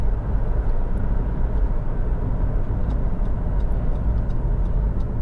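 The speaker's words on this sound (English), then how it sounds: "it's noticeable how quiet the car is" A Honda CR-V 1.6 i-DTEC 4x4 is driving on the road, heard from inside as a steady, loud low rumble of engine and tyre noise with faint light ticks over it.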